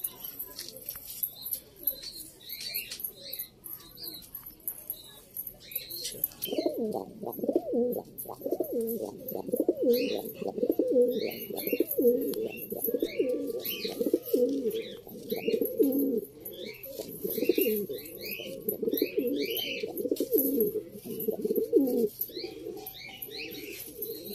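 Pigeons coo steadily and fairly close in a loft, their low rolling calls rising and continuing throughout, with lighter bird chirps scattered above and faint voices in the background.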